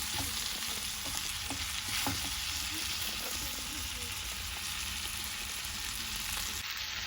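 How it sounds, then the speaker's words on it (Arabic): Alexandrian sausage sautéing in a pan, a dense, continuous close sizzle with faint stirring clicks throughout, steady and loud with no voices. "هنا بقى شايفين التشويحه دي؟"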